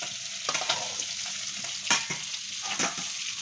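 Fish sizzles and crackles in hot oil in a pan, with a steady frying hiss broken by a few sharp pops and spatters.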